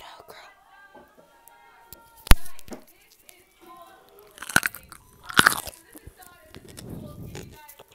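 Crisp crunches of someone biting into a pickle, a few distinct bites around the middle followed by softer chewing, close and intimate with whispering nearby.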